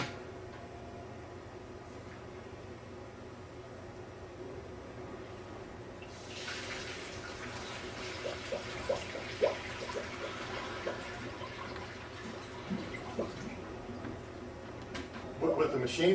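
Two gallons of liquid drain out of an ice cream machine, a soft splashing pour that builds partway through and runs on quietly, with clinks near the end.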